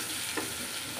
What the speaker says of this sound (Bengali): তিত করলা ভাজিটা আমার এভাবে করলে একটু ফ্রাই হলে খুবই মজা লাগে।